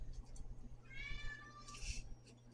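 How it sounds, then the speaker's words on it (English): A hungry cat gives two fairly close meows, a longer drawn-out one followed by a shorter one, over a quiet indoor background. "The cat's hungry."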